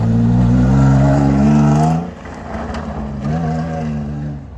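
Nissan Pathfinder in the two-wheel-drive class racing on a rallycross course, its engine roaring loud and close with a steady revving drone that drops off as it passes, then builds again.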